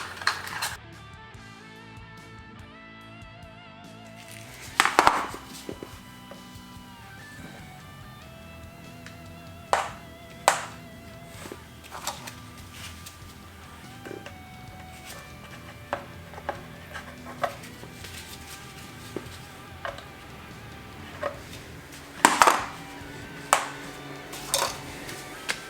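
Faint scattered clicks, taps and light metallic knocks of parts being handled while the PCV valve and hose are swapped under the hood of a 2008 Nissan Xterra, with a few louder clacks over a quiet background.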